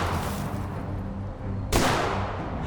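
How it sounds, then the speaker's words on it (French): A single sharp gunshot cracks loudly in a parking lot, cutting abruptly through a dull background rumble. "Après 2 coups de feu, on voit le tireur quitter le parking"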